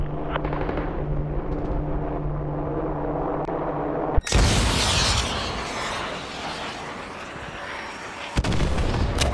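Artillery fire in Call of Duty Modern Warfare 2, opening with a low droning rumble, then a sudden loud blast followed by a long roaring decay and a second heavy boom near the end.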